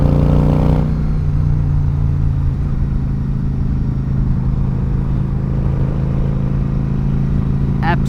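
Yamaha XVS 1100 V-Star cruiser motorcycle out on a ride, its engine droning steadily and loudly throughout with a low rumbling tone and wind noise, a brief change in pitch near the start.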